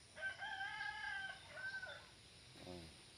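A rooster crows faintly in the distance on a hot pepper farm, one drawn-out call with a brief trailing note, followed by a short murmur of voice.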